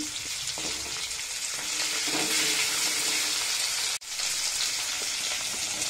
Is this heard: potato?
yes